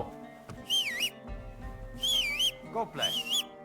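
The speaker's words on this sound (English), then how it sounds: "What are you whistling for?" A character whistles a warbling, rising-and-falling tune in Kingdom Come: Deliverance II, heard in three short bursts over a murmur of background ambience.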